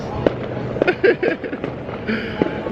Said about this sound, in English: I've never heard so many fireworks or seen so many fireworks.